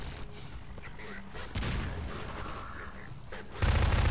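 Gunfire in Half-Life 2: a heavy blast hits suddenly midway, then a louder burst at the end, over a dense rumbling background of game combat.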